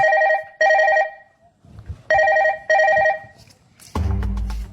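A telephone rings in a bright, tonal double-burst pattern twice, each ring loud and close with short gaps, followed by a clunking handling noise near the end.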